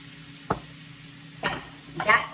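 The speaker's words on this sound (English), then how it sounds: "I've got the shrimp cooking away here" Shrimp cook in a hot pan, with a faint sizzle under a few sharp clinks and a louder scraping rustle near the end.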